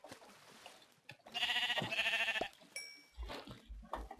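Sheep bleating in the Minecraft video game, a sustained bleat heard over background game noise, followed by a few low thuds and clicks.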